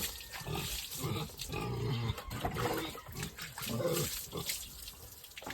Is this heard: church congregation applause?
no